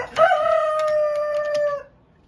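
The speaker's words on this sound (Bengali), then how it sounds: "এই হলো কোচিনের মুরগটা" A Cochin rooster lets out a single long crow close by, a bright sustained call lasting under two seconds that cuts off into quiet.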